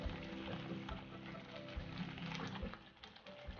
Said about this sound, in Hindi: और इसको अच्छे तरह से अब हमने भून लेना है जब तक इसका घी ना निकल आए।